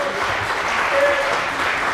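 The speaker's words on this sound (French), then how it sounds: "Sous vos applaudissements, mesdames et messieurs, le podium scratch, Yann Guillaumet, Joris Sermolas, Antoine Ro" Outdoor crowd applauding the podium at a mountain-bike race at Isola 2000, steady loud clapping from many hands with faint voices mixed in, continuous for the whole stretch.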